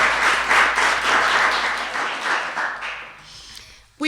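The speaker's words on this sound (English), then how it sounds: "Let's thank him with your applause" Audience applause at an evening award ceremony, the 4th Annual Rosa Parks Awards, a dense roomful of clapping that stays loud for about two seconds, then thins and fades before a sharp sound at the very end.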